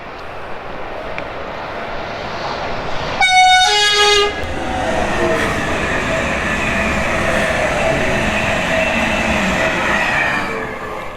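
A train passes with a loud, brief multi-tone horn blast about a second long, followed by a steady rolling rumble of the railcars going by at close range.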